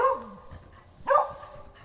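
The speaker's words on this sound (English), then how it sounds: "The beagles are barking at nothing," Beagles give two short barks about a second apart, faint and somewhat distant, at an outdoor shooting range during a blizzard.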